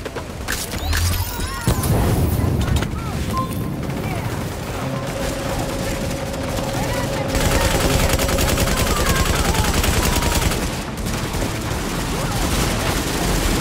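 Dense video-game gunfire from Tom Clancy's The Division fills the whole stretch, with rapid bursts and shots layered over a constant loud battle din, and a voice talks over parts of it.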